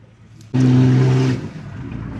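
An off-road car revs hard on an extreme stage of an off-road race in heavy rain, a close, loud engine roar with a steady droning pitch lasting under a second before dropping back to a low rumble.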